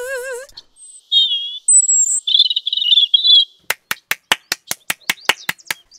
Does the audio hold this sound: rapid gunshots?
no